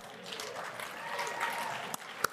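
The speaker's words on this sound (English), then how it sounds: "Let's give a round of applause to New Jersey." Convention hall audience applause at an Oxford House general session, a moderate wash of clapping with a few sharper isolated claps near the end.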